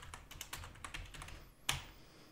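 Someone types on a computer keyboard in quick, irregular bursts of close, light clicks, ending with one sharper keystroke and a brief pause.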